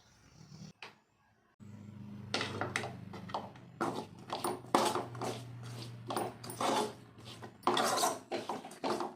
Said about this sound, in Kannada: ಇದಕ್ಕೆ 1 ಸ್ಪೂನ್ ಧನಿಯಾ ಪುಡಿ, 1 ಸ್ಪೂನ್ ಖಾರದ ಪುಡಿ ಹಾಕಿ ಬಿಸಿ ಇರಬೇಕಾದ್ರೆ ಮಿಕ್ಸ್ ಮಾಡ್ಕೊಬೇಕು ನೀಟಾಗಿ